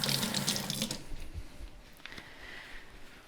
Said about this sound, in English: Just going to give my hands a little rinse.